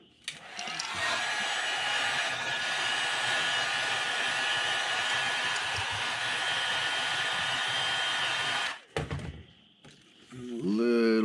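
A heat gun heat-sets paint on a custom crankbait fishing lure, blowing a steady, close, loud whoosh for about eight seconds. It then cuts off with a clunk, and a brief voice follows.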